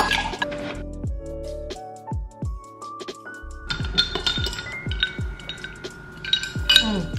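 A coffee cup and spoon clinking during coffee making, bright glassy taps and rings in a scattered rhythm, close and fairly quiet, with a few soft liquid pours between the strikes.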